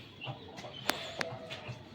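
Chickens let out of their coop cluck a few times, soft and short calls at moderate distance with a couple of sharper clicks against a quiet farmyard background.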